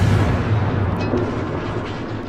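Heavy booming gunfire from a Fletcher destroyer in World of Warships, a loud, continuous low rumble of naval cannon salvos with no talking.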